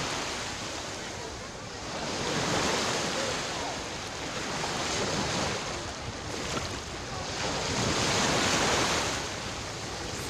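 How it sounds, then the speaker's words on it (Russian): Sea surf washing onto a beach on a hot sunny day, a steady broadband roar that swells and recedes in slow waves, with wind buffeting the microphone throughout and no voices. "Кусочек моря для вас."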